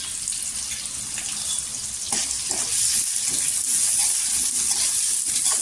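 Sliced onions and green chillies fry in hot oil with a steady, close sizzle and occasional stirring scrapes, growing slightly louder partway through.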